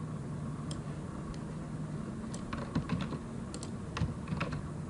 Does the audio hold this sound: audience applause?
no